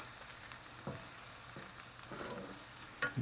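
Garlic fries in a pan for a dish of two-onion shrimp, giving a soft, steady sizzle with a few louder bursts of stirring against the pan. The sound is quiet and close, and no one speaks.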